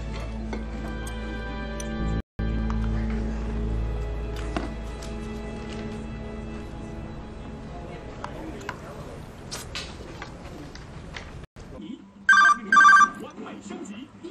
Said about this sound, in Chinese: 电话你不接呀？